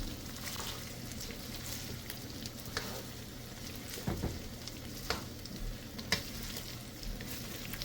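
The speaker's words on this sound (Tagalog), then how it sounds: "Ayan, halu-haluin lang ng halu-haluin." Filipino menudo, made without liver, sizzling in a pan as it is stirred, a steady crackling fry with occasional scraping clinks of the utensil against the pan.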